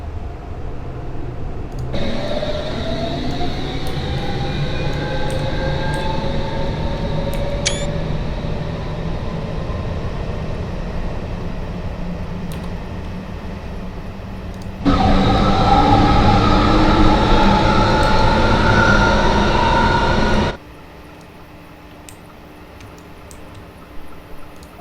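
A London Underground S8 stock train in Train Simulator 2019 hums and whines as its motors pitch up, with a louder, brighter stretch of running noise near the end before it drops back to a quieter idle.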